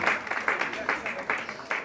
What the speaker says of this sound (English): Please clap for them as they go back to their seats